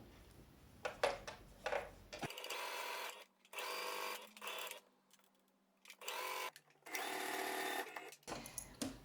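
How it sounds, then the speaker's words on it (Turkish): A domestic sewing machine stitching a seam on an oversize cotton t-shirt being taken in, running in several bursts of rapid mechanical whirring separated by short pauses and small clicks, close and clear. "Ondan sonra dikiş dikmeye devam edeceğim"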